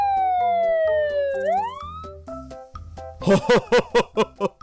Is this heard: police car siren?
yes